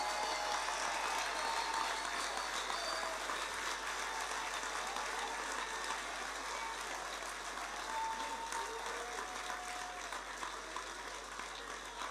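Sustained applause from a large crowd at a political party congress, a dense even patter of clapping that continues at steady loudness throughout.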